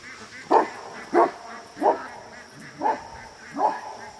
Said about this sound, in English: Oh, poor dog.